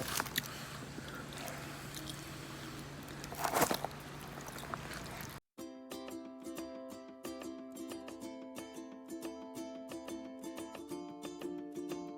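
Crispy griddle-toasted baguette pizza eaten at a campsite, with repeated crunchy bites and close chewing, one loud crunch standing out, followed by a steady run of rhythmic clicking crunches.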